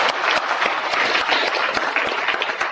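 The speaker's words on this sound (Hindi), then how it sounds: "जोरदार तालियां" Students at a school assembly give sustained, loud applause, a dense wash of many hands clapping at once with no break across the short stretch.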